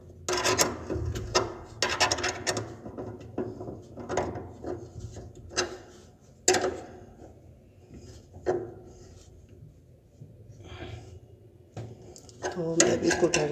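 A washing machine belt pulley is tightened by hand, producing scattered rasping and scraping strokes of metal on metal with quiet gaps between them, while someone talks over the work.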